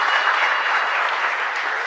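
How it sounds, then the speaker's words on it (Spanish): A church congregation at a Mass in a chapel in Asunción, Paraguay, breaks into steady, full applause, a dense wash of clapping filling the space. "Un fuerte aplauso para todos ustedes,"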